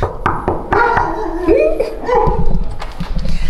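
A puppy yips and whimpers up close with short, high, bursting barks, and there are knocking sounds and some background talk.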